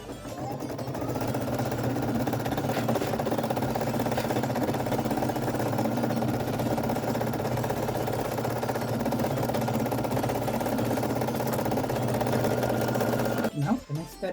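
A Brother SE 1900 embroidery machine stitches an applique with a steady, fast mechanical whir and needle chatter that runs unbroken and close, stopping with a few clicks at the end.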